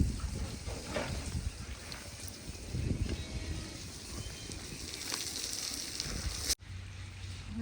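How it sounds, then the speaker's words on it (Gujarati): Mustard seeds and cumin crackle and sizzle in hot oil in a rustic village kitchen, a steady close fizzing hiss with small pops that drops away abruptly near the end to a quieter low hum. "તેલ ગરમ થઈ ગયું છે રાઈ જીરું નાખી દઈએ"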